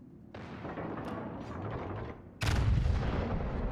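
Heavy naval gun salvos with high explosive shells in World of Warships, a continuous rumble of distant booms followed by a louder, nearer blast near the end, with no talk.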